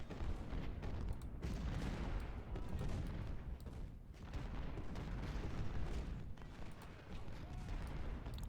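Artillery fire in the Ultimate General Civil War game during the Spotsylvania battle, a dense continuous rumble of booms and cannon volleys rolling on without a break, with a voice speaking over it.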